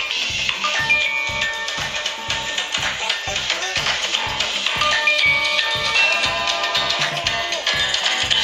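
An incoming-call ringtone plays through cheap wireless earbuds, a repeating electronic melody with a regular pulsing beat that continues steadily throughout, fairly loud and up close.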